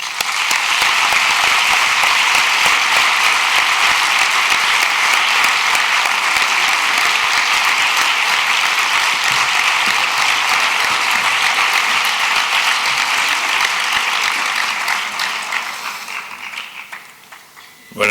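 Sustained audience applause welcoming a designer to a museum masterclass, a dense, even wash of clapping that runs for many seconds before thinning out and fading near the end.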